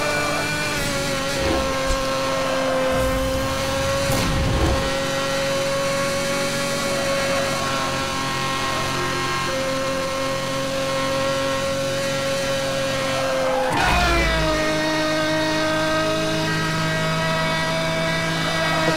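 A Pagani Zonda in Need for Speed Hot Pursuit Remastered accelerates hard, its engine note rising in pitch, dropping sharply at a gear change, then climbing again, loud and continuous throughout.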